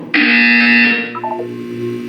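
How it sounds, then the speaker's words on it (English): A loud electronic buzzer from the video game Portal 2 sounds once, a steady harsh tone lasting about a second, followed by a short descending chime of a few notes. "When you hear the buzzer, look down at the floor."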